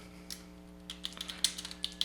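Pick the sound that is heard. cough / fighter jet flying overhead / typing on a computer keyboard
typing on a computer keyboard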